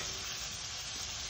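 Alligator sauce piquante at a hard boil in a pot over the fire, a dense steady bubbling hiss that is continuous and close, with no voices.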